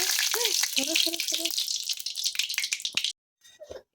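Two dried red chillies and a bay leaf hit hot mustard oil in a heated pan, crackling and sizzling busily up close while a voice talks over it, before the sound cuts to near silence.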